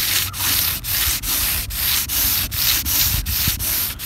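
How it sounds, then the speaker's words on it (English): Light hand sanding across a painted boat hull, a steady close rasping scrub in about ten even back-and-forth strokes with short pauses between them. "a light sanding."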